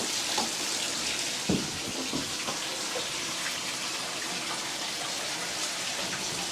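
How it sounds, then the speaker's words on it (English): A tap runs during sewer repair work at a house, giving a steady, even rush of water that continues throughout with no talk. "Turn on some water"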